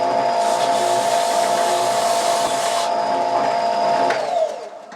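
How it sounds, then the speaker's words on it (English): An oscillating spindle sander flattens a wooden plug, a steady loud whirring drone with a grinding sanding hiss that runs continuously before winding down at the end. "I'm going to take the piece I'm going to use for a plug and just sand it flat on my oscillating spindle sander"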